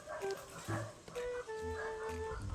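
A dog barks a few times amid outdoor background noise, with short yips and whimpers mixed in, fairly close and moderately loud.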